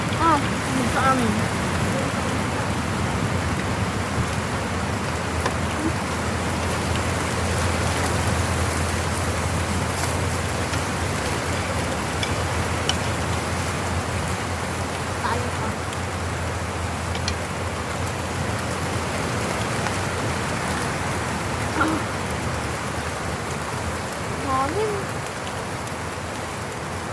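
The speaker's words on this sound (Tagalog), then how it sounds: "Parang umaambon na." Light drizzle falls as a soft, even hiss on surfaces outdoors, steady and fairly close, with a low background hum and a few faint ticks.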